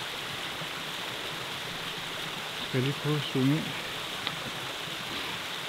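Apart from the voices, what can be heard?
waterfall in the Swiss mountains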